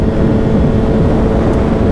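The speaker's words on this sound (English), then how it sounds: "the Graves Performance full titanium exhaust with carbon fiber canister sounds brilliant, and totally brings to life this inline 4" Kawasaki ZX-10R (2021) inline-four with a Graves Performance full titanium exhaust and carbon fiber canister, cruising: a loud, steady engine drone and exhaust rumble holding an even tone throughout, with no talk.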